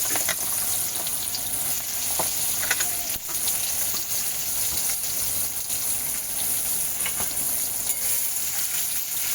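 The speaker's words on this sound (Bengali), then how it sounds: "পেঁয়াজগুলো ভালো করে লাল করে ভেজে নিতে হবে।" Onions frying in a pan with whole spices and bay leaf for chicken curry, a steady close sizzle that continues without a break, with faint scrapes and no talking.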